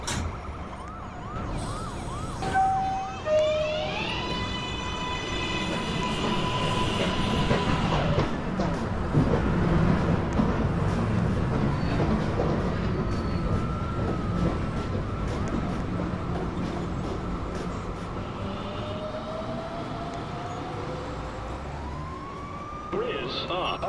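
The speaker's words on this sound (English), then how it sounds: "This is a Rose Street bound 2 train" A New York City subway 2 train rumbles and screeches through a station, with a broad continuous roar, a few high squealing tones and a chime-like signal early on, at moderate level throughout.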